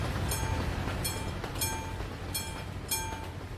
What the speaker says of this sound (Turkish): Yeni tren ve yürüme sesi diyor.